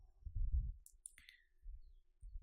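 A single sharp computer mouse click lands on a web page button during an online booking, brief and close, set against low background hum and faint rustling.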